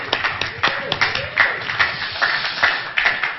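Audience at a church gathering clapping in a quick, uneven rhythm, bursts of applause near and clear for a few seconds, with voices speaking over the claps.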